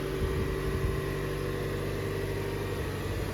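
A 2025 Lexus NX250 in white pearl idles after a remote start, a steady low engine hum with a faint tonal whine, constant and close, no voices.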